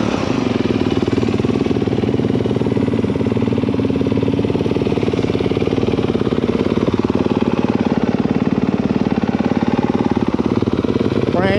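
A new 2022 Honda CRF 250R dirt bike engine idles while warming up before its first ride, a steady, close, loud rapid thumping putter that holds evenly throughout with no talk.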